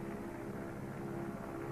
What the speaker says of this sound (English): Now the plane wings its way toward ground zero.